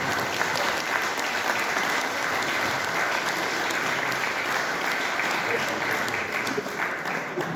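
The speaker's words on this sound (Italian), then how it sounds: "Si merita un altro applauso" An audience at a book presentation applauds steadily, a dense patter of many hands clapping at an even level throughout.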